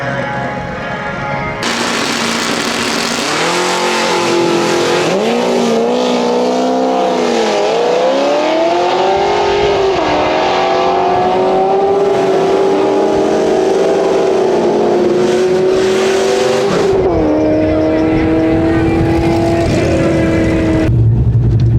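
A car makes a drag-strip pass, running an 11.9-second quarter mile: loud, close engine roar that climbs steadily in pitch, drops at each gear shift, then climbs again for most of the run, with no talking.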